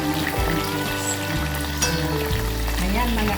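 Breast chicken coated in breadcrumbs frying in hot oil, a close continuous sizzle and bubbling with irregular crackles and a few clinks of cookware.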